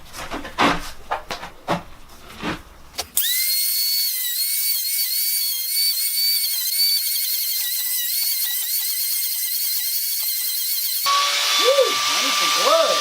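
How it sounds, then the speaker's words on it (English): An Arbortech mini grinder spins up and carves into a large white oak bowl, a loud sustained high-pitched whine that shifts in tone as it bites the wood, following a few seconds of handling noises. "Got a little toy for Christmas. Arbortech mini grinder."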